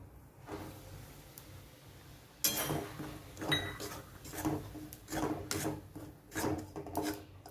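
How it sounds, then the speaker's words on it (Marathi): Wheat flour roasting in hot ghee in a pan over a low to medium flame while it is stirred, giving soft, repeated scraping and rasping strokes with an occasional light clink, fairly quiet and close. "आता आपण ह्याच्यामध्ये हे गव्हाचं पीठ टाकून भाजून घेऊयात"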